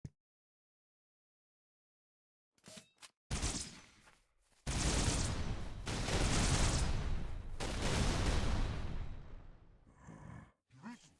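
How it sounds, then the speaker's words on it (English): A concussion rifle fires in a video game: short heavy blasts after a silent start, then a long sustained roaring burst, fading into a few scattered hits near the end, loud and close with no talk. "A concussion rifle."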